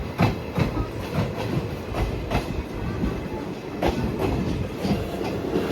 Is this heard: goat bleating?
no